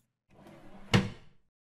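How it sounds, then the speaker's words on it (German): A door pushed shut in haste inside the indie horror game Exposure: a soft rising shuffle, then a single sharp thud that dies quickly, close and fairly loud, with no talking over it. "Wir machen die Tür ganz schnell wieder zu."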